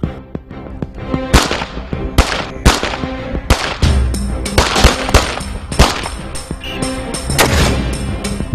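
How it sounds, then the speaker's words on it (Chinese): Rapid gunfire from Chinese and Indian soldiers in a timed target-shooting drill at a joint counter-terror exercise, loud sharp shots coming in irregular quick succession, sometimes doubled, for several seconds. "由指挥员下达命令开始射击，三秒钟之内"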